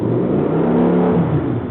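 A motorcycle engine revs steadily higher as throttle is added while the clutch is let out, a loud, close, continuous drone with a rising pitch and no talk.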